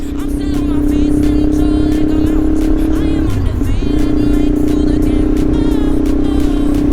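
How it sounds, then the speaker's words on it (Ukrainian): A loud car engine idles with a deep, throbbing exhaust drone that holds steady throughout, briefly wavering midway as if blipped. "Ну вихлоп громкий капець."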